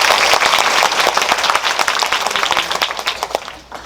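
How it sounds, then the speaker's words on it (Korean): A cinema audience at a film talk event for Parasite in a Megabox Coex theater, applauding loudly in a dense, sustained burst that gradually thins and fades toward the end. "박수 부탁드립니다."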